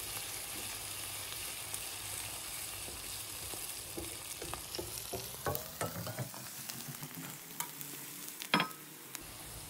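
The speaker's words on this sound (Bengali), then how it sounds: "একটু ভেজে নিচ্ছি একটু লালচে হলে।" Onion, garlic and green chili fry in a pan with a quiet, constant sizzle, joined later by scraping stirs and occasional clicks of the spatula.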